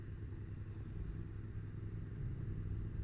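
A motorcycle rumbles past on a small village road in Dalby on the Isle of Man, a low steady engine drone under wind noise from a moving rider, no talk.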